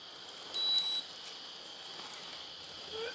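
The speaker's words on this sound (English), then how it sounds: "As you can hear, it's beeping, both of them" Two galvanic spa devices beep at the end of their cycle: a short, bright electronic tone near the start over a steady high-pitched whine, with a faint second beep at the close.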